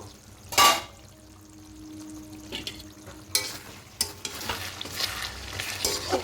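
Chicken doi kosha, a yogurt-braised chicken, stirred in a pan over a low flame: soft scraping and stirring strokes with faint sizzling, a few louder spoon knocks scattered through.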